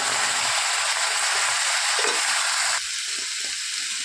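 Spices and other ingredients frying in very hot oil in a small wok for a Bengali tomato chutney, giving a loud, steady, close hiss that drops slightly in intensity partway through.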